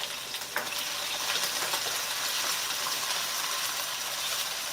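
Chicken frying in oil for Cha Kroeung spicy chicken is stirred in the pan, a close, steady sizzle with occasional scraping clicks from the stirring.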